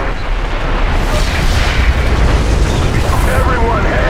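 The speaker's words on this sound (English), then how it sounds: "a nuclear device was detonated" A nuclear detonation in Call of Duty 4: Modern Warfare rumbles as a loud, sustained low roar and blast wash that fills the whole stretch without distinct onsets, deep and overwhelming throughout.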